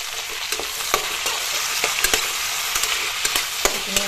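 Meat frying with coriander, chili and black pepper powder in a pan, a dense close sizzling hiss broken by sharp spoon scrapes and taps against the pan at an irregular stirring pace, with no voices.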